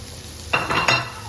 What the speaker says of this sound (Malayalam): എന്നിട്ട് നന്നായിട്ട് ഒന്നും കൂടെ ഒന്ന് ഇളക്കുക